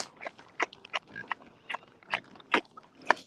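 A pig grunts and oinks in short, irregular snorts, several within a few seconds. The sounds are close and moderately loud.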